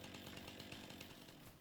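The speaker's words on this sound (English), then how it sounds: "supposedly you can cut these bushes down with a chainsaw" A virtual chainsaw cuts through bushes in Farming Simulator 25, its engine buzz holding steady and loud with slight pulsing as the blade works, heard alone without any voices.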